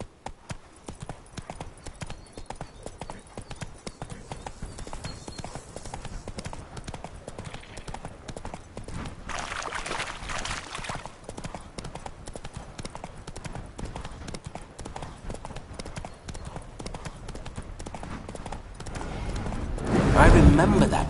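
Horse hooves clip-clop in a steady, continuous rhythm in a PS4 video game as a rider travels along, with someone talking over the gameplay throughout.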